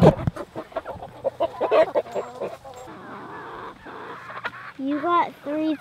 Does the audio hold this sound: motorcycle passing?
no